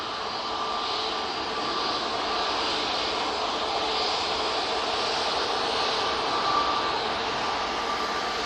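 A Boeing 737 MAX 8 at Manchester Airport gives off a continuous, even jet-engine roar with no talk over it.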